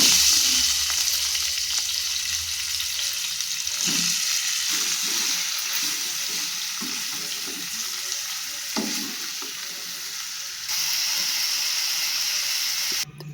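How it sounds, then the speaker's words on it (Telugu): Boiled cauliflower pieces frying in oil with salt and chili powder in a pan, a steady loud sizzle with occasional stirring scrapes and a brief surge near the end. "సాల్ట్ కారం వేసుకుని ముందుగా ఉడకపెట్టుకున్న క్యాలీఫ్లవర్ ముక్కల్ని ఒక నిమిషం పాటు ఆయిల్లో వేయించుకోవాలి"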